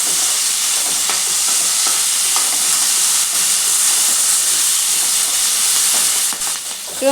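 Slit green chillies fry in hot oil for a tomato-mint chutney, a loud, dense, continuous hiss close by, with faint stirring taps and a brief scrape near the end, no talking.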